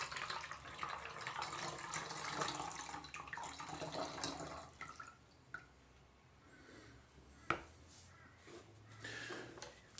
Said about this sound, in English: carefully and slowly pour it into your fly trap